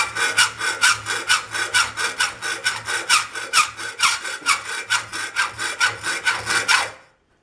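A hand saw cuts notches into wood in quick, even back-and-forth strokes, about three per second, close and clear, stopping abruptly at the end with no voices.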